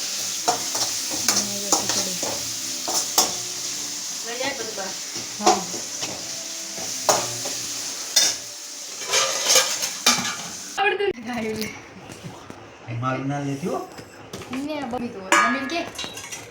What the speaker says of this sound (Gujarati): મમ્મી ખીચડી બનાવે છે વઘારે છે